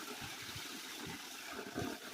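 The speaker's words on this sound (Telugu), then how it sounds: "అబ్బా, ట్యాంక్ వాటర్ ఫాల్స్" Water pouring and splashing from a village bore-well tank, a soft continuous rush close by with a few louder splashing surges, no talk over it.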